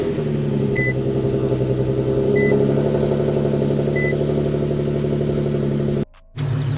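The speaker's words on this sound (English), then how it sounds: "I'll let you guys hear a little cold start." An Infiniti Q50 engine idles after a cold start, giving a steady low harmonic drone with three short electronic beeps over it. The sound cuts off abruptly near the end, then briefly resumes.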